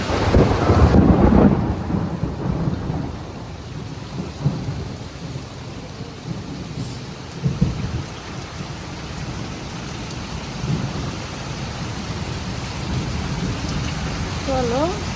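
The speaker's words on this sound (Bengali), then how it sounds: "বজ্রপাত হইতেছে, প্রচুর বজ্রপাত হয়" A heavy thunderstorm over rural Bangladesh: steady, loud rain pours down while low thunder rumbles roll through, with a stronger burst near the start.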